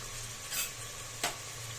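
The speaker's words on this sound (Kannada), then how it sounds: "ಚೆನ್ನಾಗಿ ಫ್ರೈ ಮಾಡ್ಕೊಳ್ಳಿ" Spices fry in a hot pan with a low, steady sizzle, broken by two brief scraping stirs close by.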